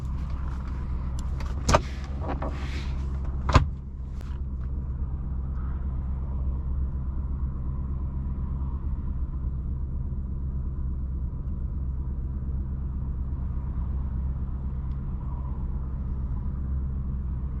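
A 2006 Maserati Quattroporte cruising, its engine giving a steady low rumble inside the cabin, with a few sharp clicks and knocks near the start before the drone settles.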